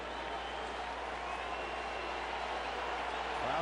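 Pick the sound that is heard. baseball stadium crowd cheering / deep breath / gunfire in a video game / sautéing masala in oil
baseball stadium crowd cheering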